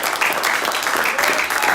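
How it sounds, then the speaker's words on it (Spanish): A church congregation applauds at a Spanish-language service, a short, loud burst of dense clapping from many hands. "Denle un aplauso al Señor."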